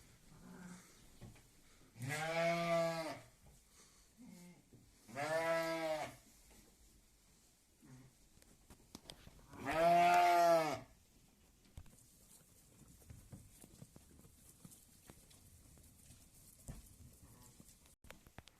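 Sheep and lambs bleat in a farm pen, three loud, drawn-out calls spaced several seconds apart, with a few fainter sounds and quiet rustling between them.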